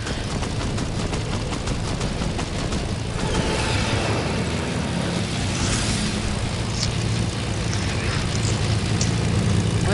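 A propeller airplane drones steadily through a Fortnite match, a constant engine hum with busy game sounds and clicks layered over it for the whole stretch.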